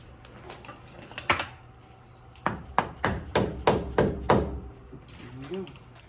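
A hammer taps a hub cap into place on a lifted truck with a 9-inch Fabtech lift kit: a few scattered knocks, then a quick run of about six sharp, evenly spaced metallic blows, close and clear.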